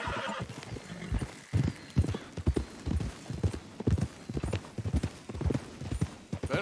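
Horse hooves clip-clop in a steady, close rhythm while riding in the Red Dead Redemption 2 video game, with a horse whinny mixed in among the hoofbeats.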